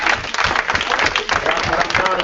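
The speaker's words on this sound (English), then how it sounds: "Give her a round of applause." Audience clapping for a speaker at a training event, a brief burst of applause from a crowd with some voices mixed in, close and loud.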